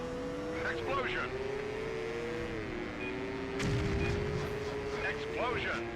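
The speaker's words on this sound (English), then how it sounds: "Explosion. Explosion hit me there." A deep, booming explosion bursts out midway in the PlayStation 2 stunt-driving game Stuntman, over a steady droning car engine, with someone talking throughout.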